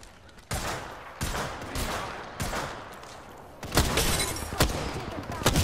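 Gunfire rings out in a match of the Apex Legends video game. Several bursts of rapid shots and sharp impacts come in clusters, with a louder volley near the end.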